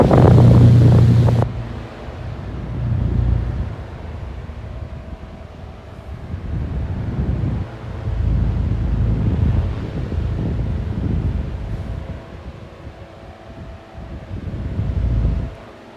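Two old 9-inch desk fans, one American and one English, running at full power with a steady low whoosh of moving air and buffeting wind rumble against the microphone, surging and easing throughout, with a sharper, louder start.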